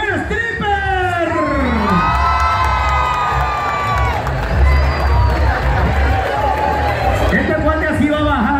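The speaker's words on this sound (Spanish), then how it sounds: "El aplauso, grito de las mujeres enloquecidas del primer stripper." Women scream, whoop and cheer at a stripper dance contest at a town fair in Cacahoatán, Chiapas. High shrieks and rising yells rise over a noisy crowd, loud and continuous throughout.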